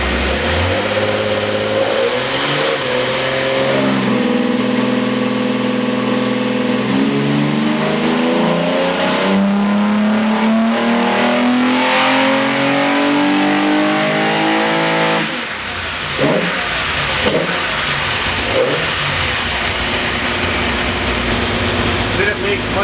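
Nissan 260Z engine revved hard at full throttle during tuning, its note rising and falling in repeated sweeping pulls before settling toward idle, loud and close, with people talking at times.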